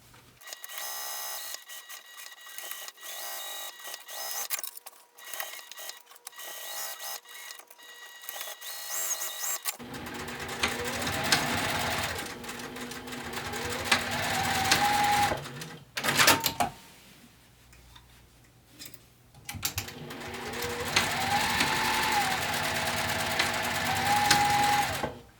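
Sewing machine stitching the exterior of a fabric pouch at a quarter-inch seam allowance: rapid rhythmic mechanical chatter in several runs with brief pauses and clicks between seams, close and fairly quiet.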